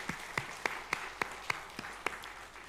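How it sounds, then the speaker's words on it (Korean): Sparse, slow clapping in a church congregation during a Sunday worship service, a few hands striking in a steady rhythm of distinct claps against a quiet room rather than full applause. "우리 대박을 꿈꾸며 흥함을 꿈꾸며 박수로 한번 축복하겠습니다."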